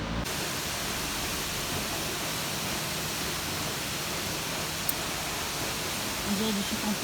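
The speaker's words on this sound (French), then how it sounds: "On est enfin arrivé à la cascade du Rouget." The Cascade du Rouget waterfall on a mountain, a steady, dense roar of falling water filling the scene without a break.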